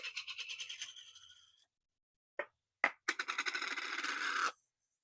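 Grey ink is rubbed over an embossed card in short bursts of dry, close scraping strokes, separated by pauses and a couple of sharp taps.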